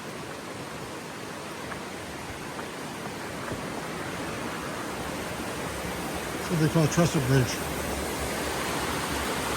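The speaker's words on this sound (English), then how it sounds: "I can hear the water." Steady rushing water of Thoreau Falls roars throughout, loud and broadband, with someone speaking briefly over it.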